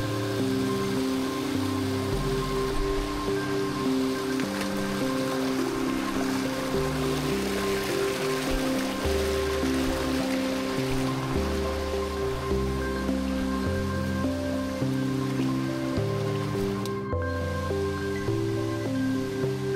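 A waterfall and flowing stream roar steadily and loudly from close by, a continuous broadband rush with no talking, heard beside the main falls and its first cascade at Balay Gubat along the Marilaque route.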